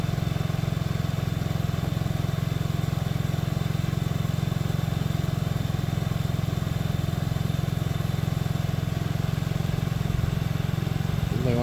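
A Honda Ruckus scooter idles after its first cold start of the year, a steady, close, slightly uneven putter that runs unbroken throughout.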